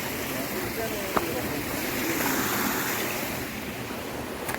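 Rushing water at Thusharagiri waterfall in Kozhikode, a broad steady roar filling the whole clip with some wind buffeting on the microphone and one sharp knock early on.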